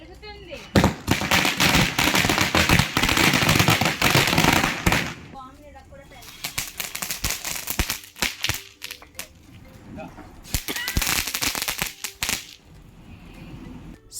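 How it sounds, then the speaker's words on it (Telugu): Diwali firecrackers burst during a family celebration, with long loud strings of rapid crackling pops close by. The bursts come in dense volleys separated by short gaps. "సో క్రాకర్స్ అయితే ఫుల్ బాగా కాల్చేసాము"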